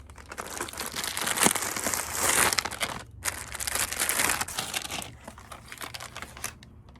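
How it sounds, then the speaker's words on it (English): Plastic grow bags are pulled open for planting potatoes, giving steady close crinkling and crumpling in bursts with a brief pause partway through, and no talking. "I'm gonna go ahead and get the grow bags opened up"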